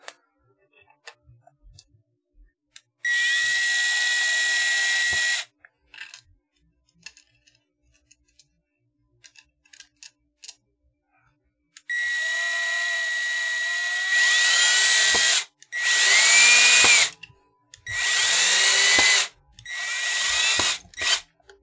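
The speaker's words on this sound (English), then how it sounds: "grab your drill or screwdriver, whichever you're using, and put it in" An electric drill whirs in several short bursts driving a screw into guitar wood, spinning up and stopping, with small clicks and handling taps in the quiet gaps.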